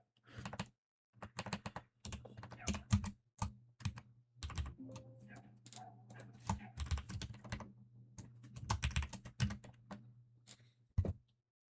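Typing C++ code on a computer keyboard, a steady run of close, crisp key clicks in bursts with short pauses, with no talking over it.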